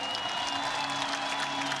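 Crowd at an MMA fight event applauds a fighter leaving the cage, a steady dense wash of clapping and crowd noise throughout the short stretch with no gaps.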